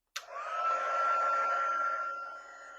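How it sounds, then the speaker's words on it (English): Handheld craft heat tool blowing hot air to melt embossing powder on a stamped card, a sudden start into a steady, loud whooshing hum with a faint whine, running alone for about three seconds. "Okay, I'm going to bring in my heat tool."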